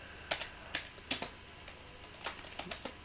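Typing code on a computer keyboard, quiet close-up keystrokes landing in irregular short clusters with pauses between them, no voice.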